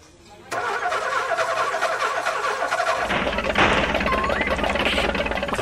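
A car engine cranks and catches, then settles into a steady running rumble that swells louder a few seconds later.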